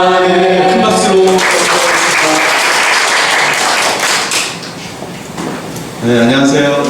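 An audience at a church lecture session breaks into sustained applause, loud and dense clapping for several seconds between stretches of a speaking voice.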